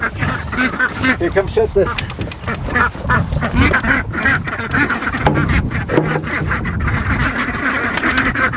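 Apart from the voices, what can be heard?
homestead ducks quacking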